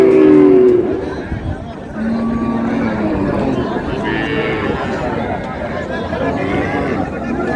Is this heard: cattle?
yes